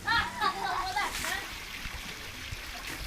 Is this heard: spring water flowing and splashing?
yes